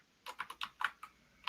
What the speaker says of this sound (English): Somebody's typing is kind of loud